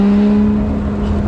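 Lotus Exige 430 Cup 'Type 49' sports car engine heard close and loud in a short burst, a steady rich tone with a strong low hum throughout.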